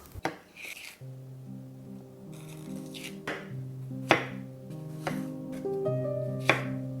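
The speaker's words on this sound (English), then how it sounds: "Grab your favorite knife because we're going to cut the peppers and carrots." A knife chops peppers and carrots for a homemade remoulade salad, giving a few sharp, separate cuts that sit under steady background music.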